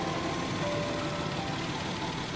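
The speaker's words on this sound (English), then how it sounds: "Engine is started now, so it is quite very quiet engine." A quiet 3.5-litre V6 engine in a Nissan Elgrand 4WD idles steadily nearby, a smooth low hum with a faint, even mechanical whir and no revving.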